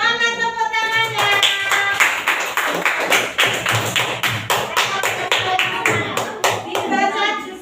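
Students in a classroom clap together in a steady, rhythmic pattern of sharp hand claps, fairly close and loud, with a voice speaking over the clapping near the end.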